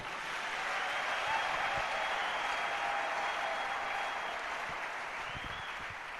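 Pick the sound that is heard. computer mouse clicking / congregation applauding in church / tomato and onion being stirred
congregation applauding in church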